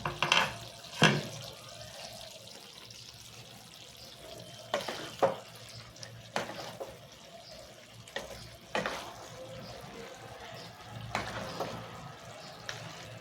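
Running tap water in a kitchen while a bowl that held ground poppy seed paste is rinsed, a soft steady flow broken by several louder splashes and clatters as the bowl is handled.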